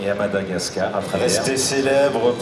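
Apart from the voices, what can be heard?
No everyday noise stands out behind the speech.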